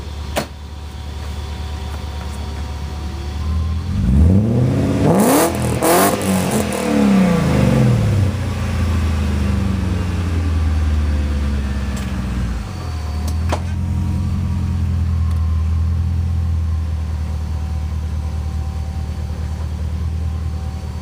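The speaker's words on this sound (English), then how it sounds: "you can hear the exhaust" A 1998 BMW E39 540iA V8 revs up through its exhaust, the engine note swelling sharply then settling back to a steady, close, loud idle rumble, with no talking.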